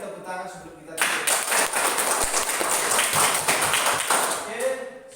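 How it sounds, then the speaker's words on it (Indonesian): A classroom of students claps together in a burst of applause lasting several seconds, close and lively with scattered individual claps, preceded by a voice and fading as speech returns. "Sekali lagi tepuk tangan sebelum kita tutup"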